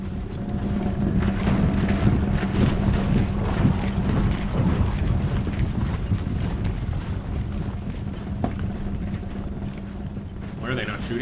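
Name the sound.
cavalry charge with horses, from video game Imperial Glory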